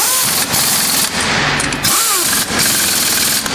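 A powerful pneumatic impact gun of the kind HGV fitters use on heavy vehicles hammers loudly and close, in sustained rattling bursts broken by brief pauses.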